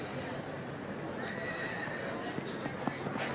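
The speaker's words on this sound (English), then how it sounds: "this foal is Longhard's foal by Longhard's Renoir." Foal neighing in the main show ring at the Royal Welsh Show, a high whinny rising over steady crowd and arena murmur, with faint hoof clip-clops around it.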